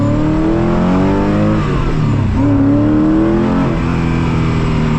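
A Koenigsegg CCX accelerates hard onto the autobahn, its engine roaring loud and close with rising pitch sweeps and a gear change midway, sustained throughout with no talk.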